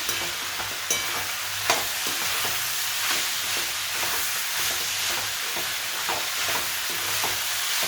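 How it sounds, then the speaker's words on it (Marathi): Vegetables with salt frying in a pan for veg pulao, a continuous close sizzle with scattered stirring scrapes and clicks, no talking. "त्याला व्यवस्थित फ्राय करून घ्यायचं"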